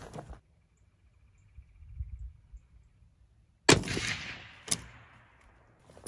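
A Christensen Arms Ridgeline rifle in 300 Win Mag fires one sharp, loud shot at close range, then a long rolling echo and a second crack-like report trail off across an open range, with quiet before.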